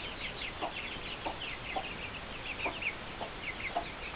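Mother hen with her hatch of eight chicks, soft repeated clucks and faint peeping over a steady hiss of background noise, quiet and fairly distant.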